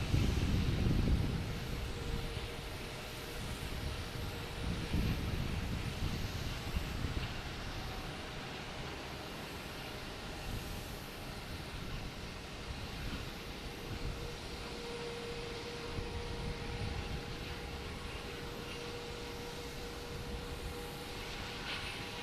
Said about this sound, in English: Southwest, 737, heading to Baltimore